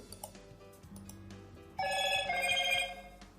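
Android phone notification chime from a test push notification, a bright tonal ringtone-like alert that sounds clearly after quieter background tones, holding for about a second before fading.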